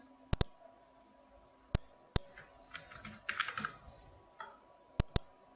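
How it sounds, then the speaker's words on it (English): Keys clatter on a computer keyboard in a short burst of typing, surrounded by a handful of sharp, isolated clicks, close and fairly quiet with no voices. "now here we will type print sheet"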